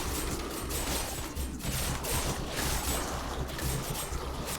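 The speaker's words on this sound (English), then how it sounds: "the ballistas are firing right off the bat" Rapid ballista fire in the video game Night of the Dead, a dense continuous rattle of shots with mechanical clatter, loud and steady with no talking.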